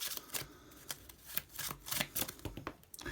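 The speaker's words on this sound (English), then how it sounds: "You can always just shuffle again." A deck of Pokémon trading cards being shuffled by hand, a quick run of soft riffling and slapping bursts, close and quiet.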